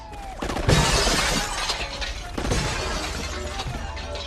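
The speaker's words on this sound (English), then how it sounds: "They're shooting at the lights." Lights shatter under gunfire in a Die Hard film scene, loud bursts of breaking glass crashing and scattering over several seconds.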